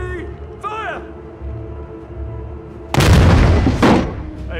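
An artillery gun fires in a war-movie battle scene: a single loud, heavy blast with a long rumbling tail, coming after a stretch of voices and a short whine.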